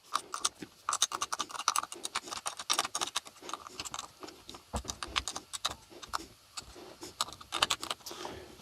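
Bolts on an electric planer's blade being tightened, a rapid run of small clicking, ratcheting metallic ticks close by, steady and uneven in rhythm with no talking.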